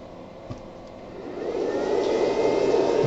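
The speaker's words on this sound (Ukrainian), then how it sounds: "Насос запускаю окремою вилкою." An electric water pump powered through a 12V/220V inverter starts up with a low hum that swells into a steady, louder whirring drone and holds there.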